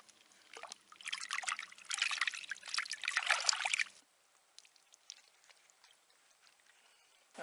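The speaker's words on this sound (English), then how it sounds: "we'll just take one of these and rinse it off in the river first" Water trickles and splashes for a few seconds as a leaf is swished through Colorado River water, then fades to quiet dripping and faint rustling.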